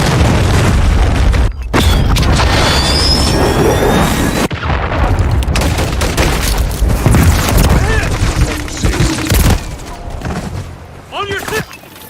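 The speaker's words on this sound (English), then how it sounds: "Hostiles launched a cruise missile." Cruise missile strikes in Call of Duty Modern Warfare III, loud rolling booms and blasts mixed with bursts of gunfire and jet-like roar, continuous and chaotic close to the player, with voices shouting over the din.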